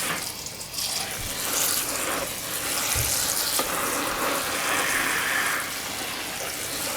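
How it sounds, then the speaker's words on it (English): Water pours and splashes steadily into a 10-inch frying pan, a continuous hissing rush with a faint sizzle, close and fairly loud. "putting water in there"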